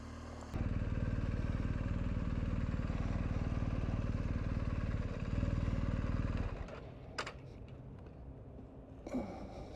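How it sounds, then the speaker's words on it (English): A touring motorcycle engine drones loud and steady at close range while riding, then eases off after several seconds, leaving quieter road noise and a couple of faint clicks. "let's go ride some bikes."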